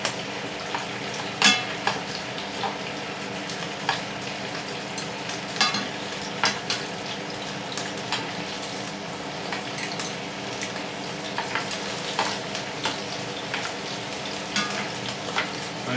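Chorizo, chicken and bacon sizzle steadily in a pan over a gas flame, a constant close crackle broken by occasional sharper pops and spoon scrapes at a regular pace, with no talking.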